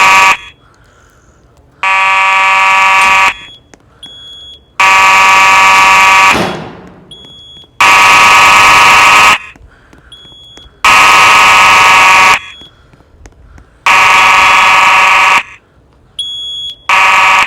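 A 1990s Simplex 4903-9220 fire alarm horn-strobe sounds in loud, steady blasts of about a second and a half each, with short pauses between them, repeating throughout with no talk.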